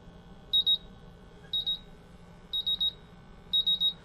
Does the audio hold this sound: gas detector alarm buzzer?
yes